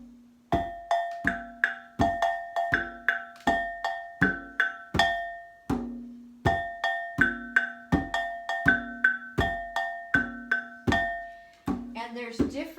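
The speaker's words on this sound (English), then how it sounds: "this is called an agogo bell" An agogo bell from Ghana struck in a quick, steady pattern, bright metallic clanks alternating between two pitches, close and fairly loud, ending with a brief unclear voice.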